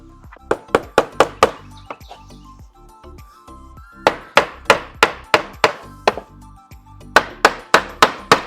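Nails are driven into thin wood with a hammer, sharp, close strikes in quick runs of several blows separated by short pauses.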